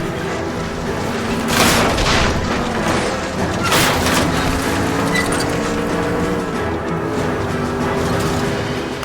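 Gunshots fired at a fleeing car's tires during a car chase in the game LA Noire, a few loud booming reports over a continuous engine and road rumble.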